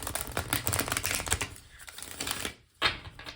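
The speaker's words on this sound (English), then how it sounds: "Do one more shuffle here." Tarot cards are shuffled during a reading, a dense run of quick papery riffling clicks that pauses briefly and then ends with one last sharp burst, close and fairly quiet.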